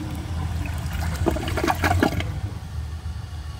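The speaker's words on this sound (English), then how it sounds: "I'm gonna give it another flush and see how much of this it can take." A 2007 Kohler Highline Ingenium toilet flushes in a close, rushing surge of water with gurgling bursts at its peak, then settles into a steady refill trickle.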